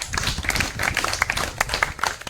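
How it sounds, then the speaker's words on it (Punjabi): Several people clap hands in an irregular, fairly close burst of claps, with some talking mixed in. "ਲਾਓ ਤਾੜੀਆਂ"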